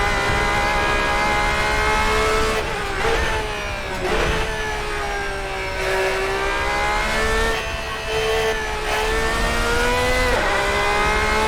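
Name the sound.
classic endurance race car engine in Assetto Corsa video game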